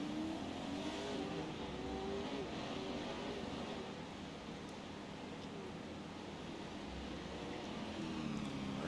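A pro 4x4 off-road race truck's engine roars steadily on the final lap of a championship race, a sustained loud drone with shifting revs and no talk.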